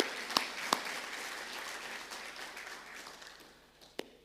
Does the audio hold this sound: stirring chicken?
no